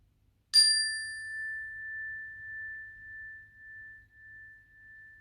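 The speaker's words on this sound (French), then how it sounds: "Je vais maintenant sonner la cloche que l'on va écouter jusqu'au bout." A meditation bell struck once closes a yoga session, its bright clear tone ringing out alone and slowly fading with a gentle pulsing shimmer over several seconds.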